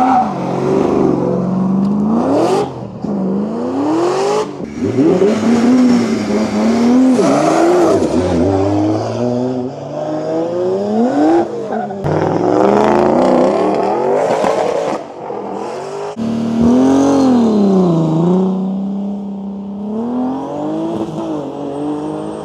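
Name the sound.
V8 drift car accelerating at a drift championship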